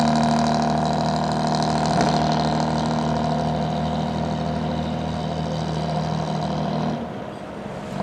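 A fishing boat engine off Bar Harbor, Maine, drones steadily with a low mechanical hum, fairly loud and close, dropping off noticeably near the end.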